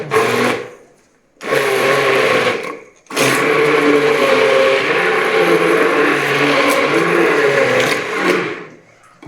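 A kitchen mixer grinder whirs loudly while grinding chilies, running in two short bursts and then one long sustained run with a steady motor drone.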